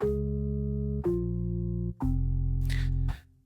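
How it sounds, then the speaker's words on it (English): A deep, sustained organ bass from the reFX Nexus preset "Robin's Corgan" plays three long held notes, each changing pitch, rich and buzzy with no voices. "Now we're going to look at that organ bass, which sounds like this."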